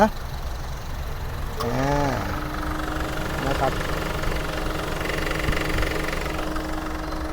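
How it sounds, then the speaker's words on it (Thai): The 2.0-litre engine of a 2012 Honda Stepwgn Spada idles steadily with a low, even hum and rhythmic knock, while someone speaks briefly over it. "อันนี้คือเครื่องยนต์ที่สตาร์ทอยู่นะ"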